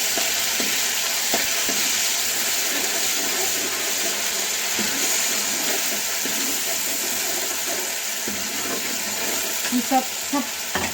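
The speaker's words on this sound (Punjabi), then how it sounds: "ਇਹਨੂੰ ਅਸੀਂ ਚੰਗੀ ਤਰ੍ਹਾਂ ਭੁੰਨਾਂਗੇ ਤਾਂ ਜੋ ਸਾਡਾ ਮਸਾਲਾ ਕੱਚਾ ਨਾ ਰਵੇ ਤੇ ਲਾਲ ਹੋ ਜਾਏ" Ground spice masala for rajma frying in smoking hot oil, making a steady hiss of sizzle with a few soft stirring scrapes and small bubbling pops near the end.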